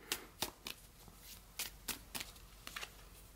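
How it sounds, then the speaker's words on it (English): A deck of botanical oracle cards is shuffled in a quiet room, with about ten quick riffling bursts in an uneven rhythm, close and fairly soft. "Let's pull a botanical card."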